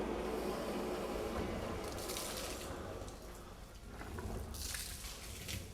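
Rinse liquid sloshing and gushing inside a rolled gas tank during sealer prep, a steady wet churning that runs throughout with brief surges of splashing.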